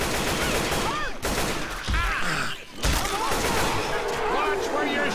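Dense, continuous video game gunfire and chaotic combat effects from Left 4 Dead 2, loud and sustained with brief dips and voices mixed in.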